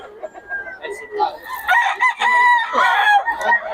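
Roosters crow repeatedly at a market in Bocaue, Philippines, overlapping calls rising and falling, with a few clucks and faint background voices.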